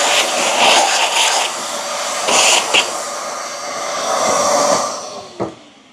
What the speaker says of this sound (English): put new beans in and see whether it grinds properly